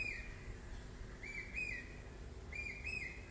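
A persistent bird repeats a clear whistled call in paired bursts, faint and somewhat distant, over a quiet background during an outdoor talk, with no speech.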